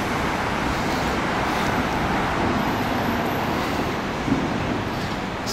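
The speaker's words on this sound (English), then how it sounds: "Whoa, check that car out." Steady, dense Paris street traffic on a morning, a continuous broadband roar of passing cars with no single vehicle standing out, mid-distance and even in level throughout.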